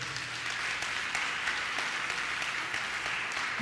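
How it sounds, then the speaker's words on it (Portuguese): Church congregation clapping in praise to the Lord, a dense steady patter of many hands held at an even level from start to end, with no voices standing out. "Você pode dar um aplauso forte ao Senhor?"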